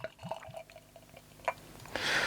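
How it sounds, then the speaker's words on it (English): Wacken Brauerei Baldur Märzen beer poured from a bottle into a glass: a few soft drips and glassy clinks, then a hissing gush of liquid filling the glass near the end, quiet and close. "let's get a little bit in the glass first"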